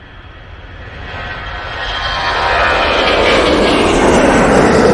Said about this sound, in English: A321 CEO going out now.